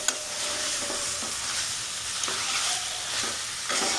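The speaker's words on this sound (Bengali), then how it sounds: "সব মশলাগুলো দিয়ে আমি এখন একটু কষতে থাকবো।" Lean mutton with spices sautéing in a little oil, a loud, close sizzle with continuous stirring scrapes and occasional clicks of the spoon against the pan.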